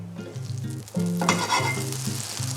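Onion frying in melted butter in a pan: a steady, close sizzle that swells louder partway through as it hits the hot fat, with stirring sounds and no talk.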